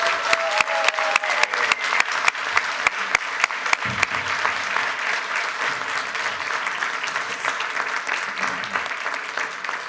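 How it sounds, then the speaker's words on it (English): A large audience applauds the student hosts at the close of an evening candidates' meeting in the City of Independence, with steady dense clapping throughout and a few sharper nearby claps standing out early on. "let's give a round of applause to the students that were able to host this"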